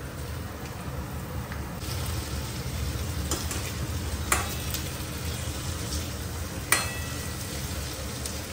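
Onion sizzling steadily in a pan ahead of potato being added, a continuous close frying hiss with occasional stirring clinks and scrapes, no voices over it.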